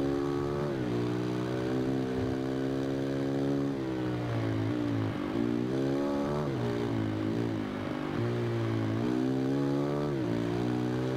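Engine of a KTM Duke 690 motorcycle in the racing game Ride 2, a steady, loud harmonic drone with pitch rising and falling through gear changes and throttle shifts, heard alone without talk.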